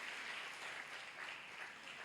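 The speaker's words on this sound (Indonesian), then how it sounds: "Tepuk tangan saudara yang melayani" A church congregation claps for those serving at a worship service, a brief, even burst of applause, fairly quiet and steady throughout.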